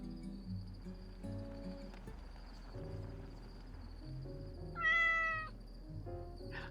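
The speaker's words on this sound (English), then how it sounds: "you may hear cats every now and then here." Cats meow faintly in the background, one clearer drawn-out meow near the end, over a quiet bed of crickets chirping and a steady high insect tone.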